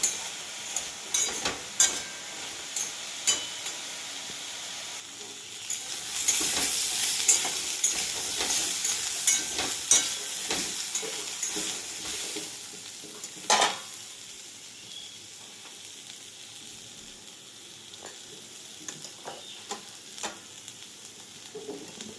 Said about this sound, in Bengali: ঢাকা খুলে একটু নেড়ে চেড়ে নিলাম